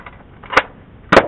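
Nerf Fortnite silenced pistol firing foam darts, two sharp, fairly quiet snapping pops about half a second apart, close by with no talk.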